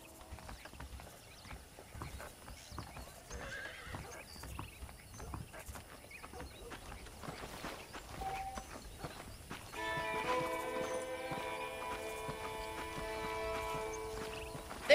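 Horses in a video game clip-clop at a walk, quiet hoof beats repeating steadily with an occasional neigh, while a soft musical score swells in toward the end.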